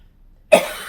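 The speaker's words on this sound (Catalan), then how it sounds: "La tos recurrent que dic" A single sharp cough bursts out after half a second of near silence, loud and close, with a brief trailing rasp and no speech around it.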